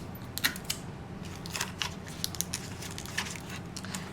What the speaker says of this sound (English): we're gonna tape the other wheel down as well.